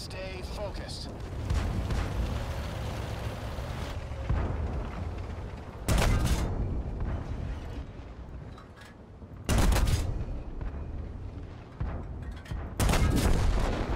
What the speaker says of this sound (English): Yeah, this gun's really sounds nice.